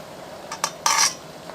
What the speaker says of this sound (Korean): 뜨거운 물을 찹쌀가루 위에 뿌리고 반죽을 해줄게요.